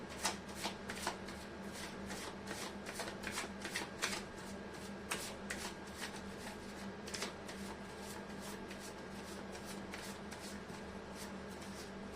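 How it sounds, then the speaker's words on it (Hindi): Tarot cards being shuffled by hand in repeated riffling bursts, crisp and close, with a steady low hum underneath and no talking. "मैं कर देती हूँ कार्ड की शफलिंग"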